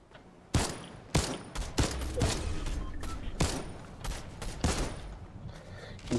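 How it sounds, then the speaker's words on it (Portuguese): Gunfire in the video game Fortnite Reload: sharp, loud shots in irregular bursts and single reports spaced about half a second to a second apart, over a low game background. "Tem tiro logo à frente."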